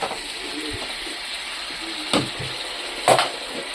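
Chicken pieces sauté in a pan for a pepper chicken fry, giving a soft, steady sizzle with two brief louder scrapes or stirs.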